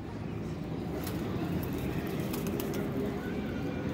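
A teddy pigeon coos softly and repeatedly over a constant hiss of outdoor background noise, with faint voices in the distance.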